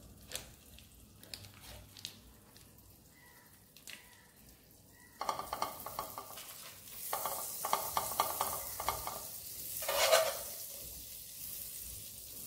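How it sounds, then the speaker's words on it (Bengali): Butter and chopped garlic sizzling in a pan, quiet stirring and light clinks at first, then a louder steady frying hiss, with no talking. "রসুনের সঙ্গে বাটার একটু ফ্রাই করলে পরে একটা ভালো টেস্ট আসে"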